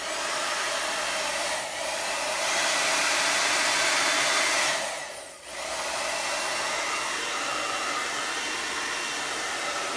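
A hair dryer blows steadily and close by to dry wet paint on a wall, with a brief dip midway as it is moved or paused before the hum resumes.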